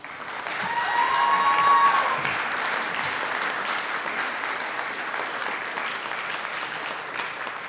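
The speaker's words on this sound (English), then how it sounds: "So now, please give a warm welcome to Sarah Damude." An audience at a museum curator talk applauds to welcome the speaker. Steady, full clapping from a large crowd rises over the first two seconds and then holds evenly to the end, with no voices over it.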